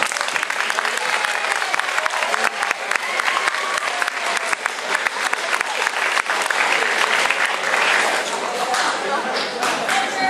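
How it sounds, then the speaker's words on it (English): Students at a year-end school assembly clap steadily and loudly, a dense sustained roar of hands from a large crowd throughout. "now would be the time to clap, kids"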